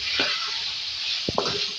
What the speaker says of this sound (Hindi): इसको फ्राई करेंगे इसके साथ